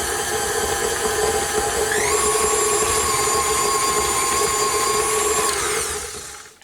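An electric mixer beats butter: a steady, loud motor whine that climbs in pitch as the speed is raised, holds a high buzzing drone, then winds down and cuts off at the end.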